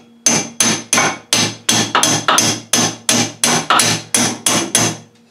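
A dozen loud metallic hammer blows on a punch, driving a shaft out of a plow, land in a steady rhythm, each sharp strike ringing briefly before the next, close up with no talking.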